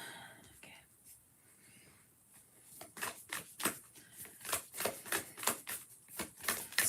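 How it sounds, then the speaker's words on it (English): Tarot cards being shuffled up close, with quiet whispery riffling at first and then a run of crisp, rhythmic card snaps that grow louder and denser. "A few more shuffles."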